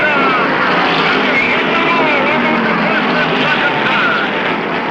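Late-1960s stock cars racing flat out at Rockingham, a dense, steady engine roar from the pack that holds at full volume throughout, with a commentator's voice running over it.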